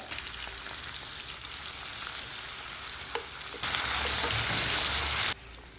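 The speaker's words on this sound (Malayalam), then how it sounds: "ആ ഓയിലിൽ ഒരു സവാള സ്ലൈസായിട്ട് അരിഞ്ഞത് ചേർത്ത് വഴറ്റുക" Sliced onion sautéing in hot oil in a pan, cooked for restaurant-style fried rice, gives a continuous close sizzle that swells louder for a moment near the end, with no voices.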